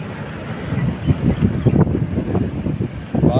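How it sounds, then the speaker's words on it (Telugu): Waves roll in at Yarada Beach after a cyclone, a close, rumbling surge that rises and falls in broad pulses under gusting wind. "అలలు"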